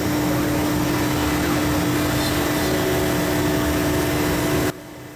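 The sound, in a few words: CNC router cutting acoustic guitar body shape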